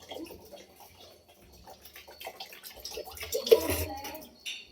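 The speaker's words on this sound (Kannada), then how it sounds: "ನೀರು ತುಂಬ್ತೀನಿ ನಾನು" Tap water runs into a container, a splashing, gurgling flow that grows louder toward the end, with voices talking faintly under it.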